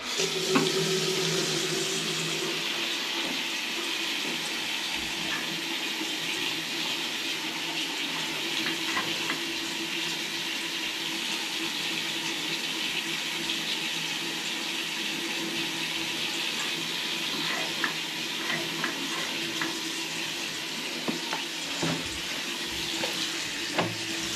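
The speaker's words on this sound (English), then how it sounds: "what I'm going to do is run some more water. Actually see if I can get this sink going." Water runs continuously from a faucet into a sink while a clogged main drain is being cleared, a steady hiss and splash that holds evenly throughout, close and with only a few small clinks.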